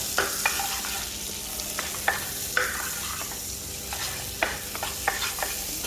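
Belacan shrimp paste stir-fried in a pan for dried sambal belacan, with a steady low sizzle under repeated sharp scrapes and knocks of a utensil against the pan, close by.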